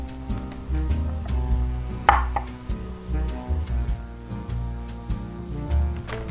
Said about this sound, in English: Grab your cauliflower, and we're gonna chop this into bite-sized pieces